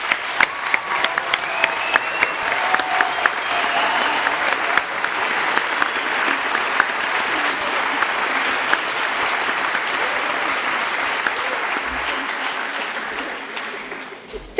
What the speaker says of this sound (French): prenons quelques instants ensemble pour les remercier en leur donnant une chaleureuse main d'applaudissement